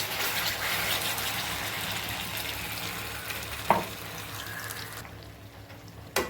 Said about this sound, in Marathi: आता मी कढई ठेवली लोखंडाची, तूप टाकलं आणि मसाला टाकते।